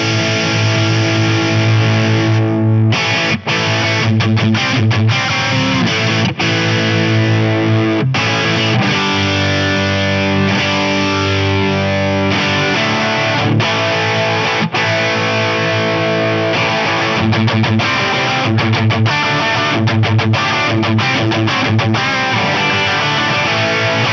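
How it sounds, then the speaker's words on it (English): An electric guitar plays through a BOSS OD-200 pedal on its X-Distortion setting, giving a loud, dense, saturated tone with sustained chords and brief choppy gaps. "While we're doing that, we'll hear the X-Distortion."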